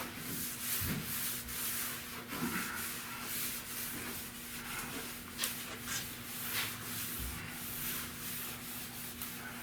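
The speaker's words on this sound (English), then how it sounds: "Before you even start sanding" Sanding a rusty roof on a 1970 Buick Wildcat, steady scraping strokes repeating in an uneven rhythm, close but fairly quiet, with a faint background hum and no talk.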